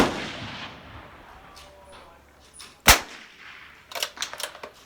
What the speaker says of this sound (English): I'm using my typical practice ammo CCI standard velocity, and you know, at 150 yards that I'm shooting at right now